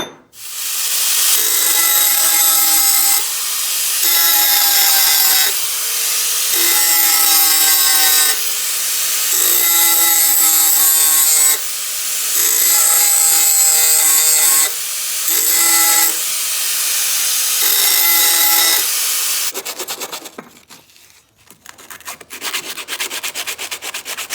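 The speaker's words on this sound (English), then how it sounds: "I'm going to take my angle grinder, give it a little bit of an edge kind of towards the tip" An angle grinder puts an edge on the tips of steel throwing stars, running in about eight loud, near passes of roughly two seconds each with short breaks between, then quieter scraping at the end.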